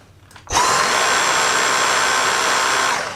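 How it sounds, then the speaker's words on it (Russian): A Dyson Digital Slim / V7 cordless vacuum cleaner with its turbo brush attached switches on after a click and spins up to a loud, steady motor whine that holds close and unbroken until the end. "Подключаем турбощетку. Включаем."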